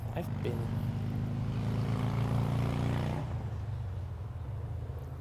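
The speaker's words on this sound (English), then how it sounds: "That was a motorcycle." A motorcycle engine roars loudly nearby for a few seconds, then drops away abruptly as it passes and fades into the distance.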